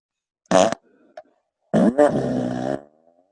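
A voice imitates fart noises: a short blurt, a tiny pop, then a longer, buzzing, sputtering raspberry that runs about a second, close and fairly loud, with no other speech around it.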